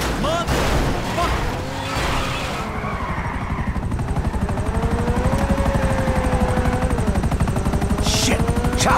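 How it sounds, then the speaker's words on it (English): A police helicopter in Grand Theft Auto V thrums with a steady, loud rotor chop beneath bursts of gunfire, with voices shouting over the din. "Shit! Chopper!"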